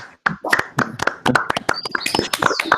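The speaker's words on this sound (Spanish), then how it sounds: "si abrimos los micrófonos y aplaudimos ahora" Scattered hand claps come through open microphones on a video call, a few uneven participants clapping close and dry in an irregular rhythm for a couple of seconds.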